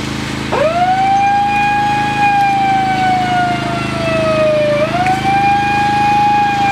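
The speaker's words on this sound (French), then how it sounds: "Merci de couper cette sirène." A fire truck siren wails loud and close during a minute of silence at a gathering in Alès, one long tone that sags slowly, then jumps back up and holds, with no talk over it.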